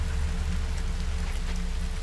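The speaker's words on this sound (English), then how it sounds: "It's the rain." Steady rain falling in the video game Coral Island, a continuous even patter with a low hum underneath, alone and without talk.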